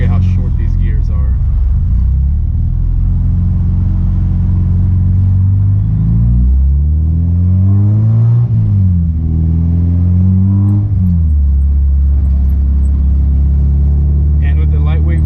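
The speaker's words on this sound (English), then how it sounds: "And with the lightweight flywheel, this thing just revs out no problem." A Honda EG hatchback with an Integra Type R transmission and lightweight flywheel revs up through short gears, pitch rising and falling several times, loud and close from inside the car, then settling back to a low drone.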